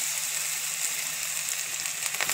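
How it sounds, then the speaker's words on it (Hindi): Cumin seeds crackle in hot oil for a bottle gourd and yogurt curry, a steady soft sizzle broken by sharp little pops that grow busier toward the end. "देखिए, जीरा फूटने लग गया है"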